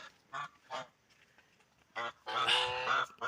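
Geese honk at night in several short, nasal calls, with a louder cluster of overlapping honks near the end against a quiet background.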